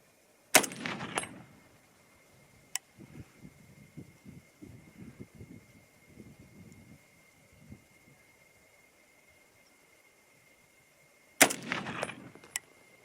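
A Browning BAR rifle fires at a target outdoors: two sharp, loud shot bursts about eleven seconds apart, with faint rustling and handling noise between them.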